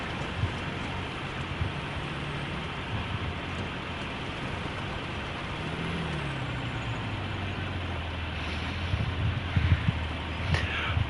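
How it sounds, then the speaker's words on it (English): A loud Swedish vehicle engine in the War Thunder video game rumbles steadily and deeply. Its pitch glides down near the middle, and a few harder knocks come toward the end. No one speaks. "You know the one thing that gets me about Swedish vehicles? Their engines are excruciatingly loud."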